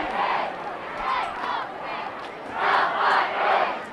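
A high school football student section cheers and yells in loud, rolling waves, with a big surge near the end, from a home crowd backing the Eagles during a Joplin versus Waynesville game.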